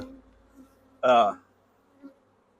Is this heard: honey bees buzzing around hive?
yes